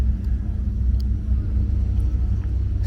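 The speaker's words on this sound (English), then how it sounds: "Got a Hellcat Red Eye." A Dodge Hellcat Redeye idles at a drag strip with a deep, continuous low rumble, loud and steady, with faint distant clicks over it.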